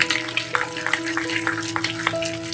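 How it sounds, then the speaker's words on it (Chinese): Pork wonton filling stirred steadily in one direction, a close, wet churning with repeated soft squelching strokes and a faint steady background hum. "加进以后就朝一个方向搅拌，直到它把所有的水分吸收进去"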